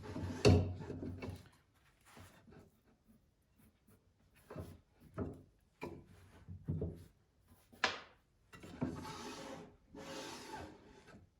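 A wooden drawer slid back into its cabinet, with a sharp knock near the start, then several short scraping and rubbing slides and a soft latch clack. The sounds are close and fairly quiet, with pauses between them.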